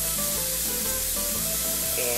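Ground meat sizzling and frying in a pan with roasted garlic, a steady close crackle with faint stirring and no talking.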